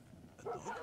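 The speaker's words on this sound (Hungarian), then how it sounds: "Aha, itt lesz a kutya." A dog in the video game Far Cry 6 gives a couple of faint, short barks in quick succession, quiet against the game's background.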